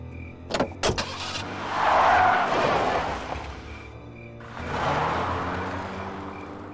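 A car drives in the Full Throttle Remastered video game, with a couple of sharp clunks like a door, then a rising and falling engine roar that swells twice, fairly close and without speech.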